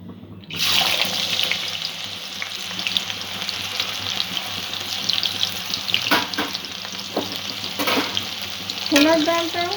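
Soaked chana dal fries in hot oil toward crispness with a sudden loud, bright sizzle that starts abruptly and runs on steadily, with occasional clinks and a spoon scraping near the end.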